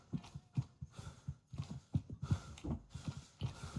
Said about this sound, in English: Get me horse down here.